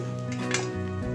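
Roasted peanuts are stirred in a hot pan, giving a continuous soft scraping and rustling with light sizzle and a steady background hum, no voices.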